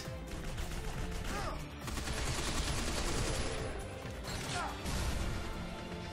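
Rapid bursts of automatic gunfire fill a firefight against robots in the video game Binary Domain, dense and continuous with mechanical clanks and impacts mixed in, loud and close.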